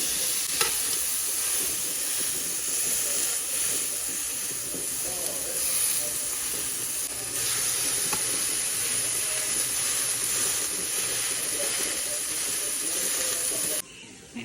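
Food fries in a very hot cast iron skillet with a steady, loud sizzle and hiss that runs without a break, with faint clinks from stirring along the way and no talking over it.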